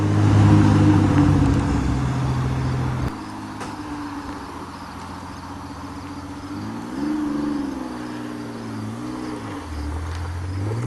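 A Pontiac Fiero V6 pulling away and climbing through the gears, engine tone rising, dropping at shifts and rising again, heard from a steady moderate distance.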